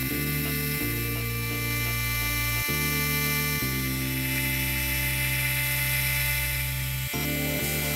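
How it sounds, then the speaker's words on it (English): A shop-made D-bit cutter mills V grooves in metal on a machine, a loud, continuous high whine with a droning motor underneath that shifts pitch several times as the cut changes. "I've made this D-bit cutter specifically to cut the V grooves."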